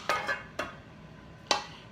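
Food being stirred in a pot, with three distinct sharp clinks of a utensil against the pot, spaced irregularly and heard up close without talk.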